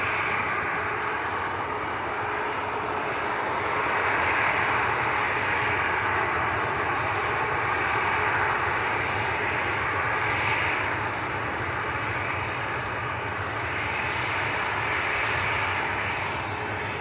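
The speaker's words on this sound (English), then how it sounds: "A Gulf and a Global. 2 aircraft coming down our favourite taxiway here." Steady, loud roar of business jets, a Gulfstream and a Global, taxiing at Manchester Airport, a broad continuous engine wash that swells and eases slightly as they roll along the taxiway, with no talk.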